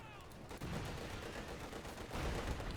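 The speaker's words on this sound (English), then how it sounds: "T-5 charging in, Panzer IV shoots" Panzer IV tank fire in the Company of Heroes 2 game, heard as dense overlapping distant gunfire and explosions rumbling continuously.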